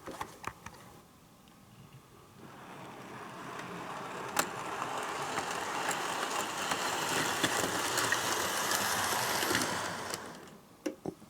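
A Hornby RailRoad MR Class 4P Compound model locomotive rolls across express points, a soft whirring and rattling rumble that swells as it approaches, holds for several seconds, then fades, with a few faint clicks at the start and end.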